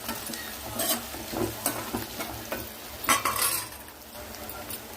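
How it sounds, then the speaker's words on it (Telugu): Curry leaves are stirred into a frying masala base for a long brinjal curry: a close, crackling sizzle with rhythmic spoon scrapes and occasional clinks against the pan. "కొంచెం కరివేపాకు వేసుకుందాము ఇదంతా ఇలా మిక్స్ చేసేసుకోండి"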